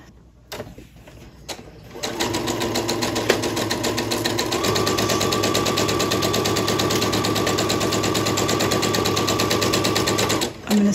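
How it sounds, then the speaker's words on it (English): A sewing machine stitches pieces of a Christmas quilted wall hanging, starting after a few handling clicks and then running in a steady, rapid, close mechanical whir for about eight seconds before stopping. "And then I'm going to carry on sewing."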